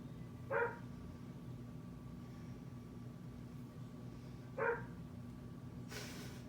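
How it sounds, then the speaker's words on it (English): A dog barks twice at a distance, each a brief muffled bark several seconds apart, over a steady hum in an indoor room. "Sorry for the dog barking."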